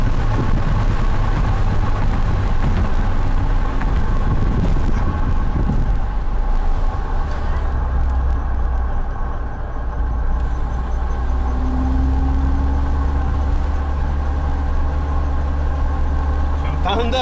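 A Fiat Tempra 2.0 16v fitted with a Race sports air filter runs on the road, its engine droning under steady talk from people inside, with a rising pitch sweep partway through.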